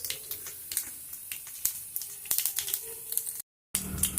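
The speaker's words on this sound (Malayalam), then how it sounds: "വെളിച്ചെണ്ണ ചൂടാകുമ്പോൾ അതിലേക്ക് കടുകിട്ട് കൊടുക്കും." Mustard seeds spluttering in hot coconut oil in a pan, irregular sharp pops and crackles over a soft sizzle, close and fairly loud, with a brief dropout near the end.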